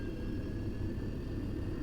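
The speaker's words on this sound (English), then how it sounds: "Now you hit toga, and that's when they actually advance" Steady low roar of Boeing 737 simulator engines spooling toward takeoff thrust, a constant rumble with a faint high whine above it and no talking.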